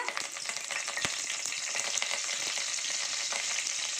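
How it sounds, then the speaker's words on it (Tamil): Loud, steady sizzling of curry leaves hitting hot oil, with crackling pops and a sharp clack early on, close up and without speech. "இப்போது கருவேப்பிலை சேர்த்துக்கலாம் தாளிக்க"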